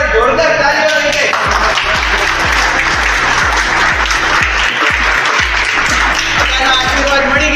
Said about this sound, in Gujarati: ભાઈ એકવાર જોરદાર તાળીઓ લઈ લે.